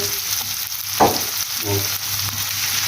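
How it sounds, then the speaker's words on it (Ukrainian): Chicken liver fries in a little oil in a pan, giving off a steady close sizzle with a brief louder crackle and stirring scrape partway through. "до такого золотистого кольору ми маємо її легенько підсмажити швиденько"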